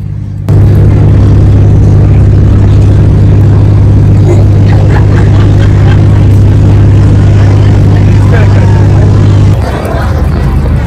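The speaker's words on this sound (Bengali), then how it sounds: "এবারে বোটে করে আবার অন্য পাড়ে যাচ্ছি" Boat crossing the water at Magic Kingdom, Walt Disney World: a loud, steady engine drone with a strong low hum runs throughout and cuts off near the end, with faint crowd chatter beneath.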